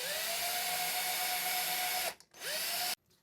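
A power drill boring eye sockets into handmade lead jig heads, a close steady whine that winds down, pauses, spins up again briefly, then cuts off.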